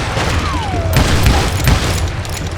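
Gunshots in the Western video game Call of Juarez: Gunslinger, several booming shots ringing out over a steady din of game noise, fairly loud and close.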